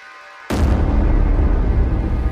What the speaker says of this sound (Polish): Powietrze przeszywa eksplozja o sile 30 bomb zrzuconych na Hiroshimę.